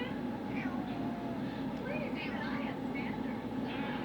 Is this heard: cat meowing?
yes